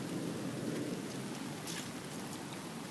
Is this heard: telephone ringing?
no